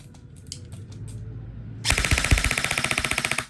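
An E&C 840GY SAI T2 airsoft electric gun fires a fast full-auto burst, a loud, close, rapid mechanical rattle lasting about a second and a half after a low motor whir.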